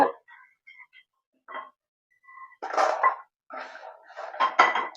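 Roasted almonds poured into a metal dish, scattered rattling and clinking bursts of nuts hitting the dish, close and fairly loud, with quiet gaps between pours.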